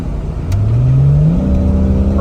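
A 1998 two-door Jeep Cherokee XJ with 83k miles under full acceleration, its engine revving loud and close with a rising pitch as it pulls hard, a continuous throaty drone.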